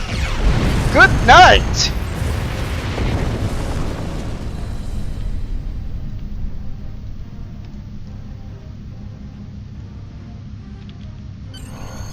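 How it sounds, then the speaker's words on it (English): A high-yield torpedo fires and detonates in Star Trek Online, a bright launch followed by a deep rumbling blast that slowly decays over several seconds, with a voice calling out briefly early on. "On my signal, I want torpedo high yield. Fire."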